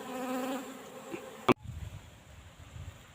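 Wild honeybees buzzing around a nest in the open, a close droning hum broken by a sharp knock partway through, then softer rustling and faint buzzing, no talk.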